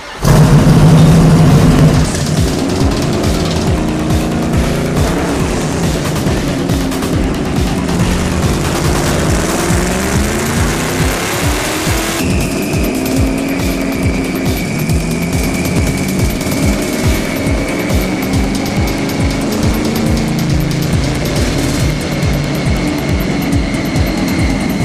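A tuned car engine revs hard on a chassis dynamometer, roaring loudly and steadily as it climbs through a long pull, with no talk over it.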